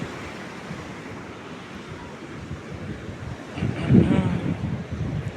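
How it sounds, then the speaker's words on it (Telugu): Ocean waves washing up a beach at night, a steady low wash with a swell building near the end, under wind buffeting the microphone; boats are moored nearby. "నైట్ పూట ఎడదాకా వస్తున్నట్టున్నాయి అలలు"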